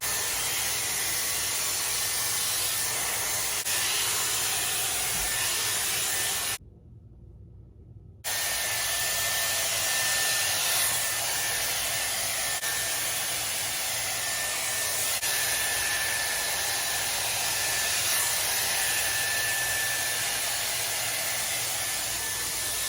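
A Dyson Airwrap blows hot air to dry hair, a loud steady whooshing hiss close by that cuts out briefly for about a second and a half, then resumes and runs on evenly.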